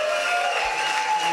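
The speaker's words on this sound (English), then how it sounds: "I think we want to give Jaap a warm applause" Audience at the closing ceremony of an international conference giving warm, steady applause, a dense continuous wash of many hands clapping together with a faint tone sustained underneath.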